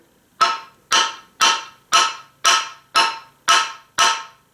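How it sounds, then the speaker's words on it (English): An engineer's hammer pounds a handle onto a Condor Crocodilian machete, with eight sharp, evenly spaced whacks landing close and loud, about half a second apart, and no talking. "It's an engineer's hammer."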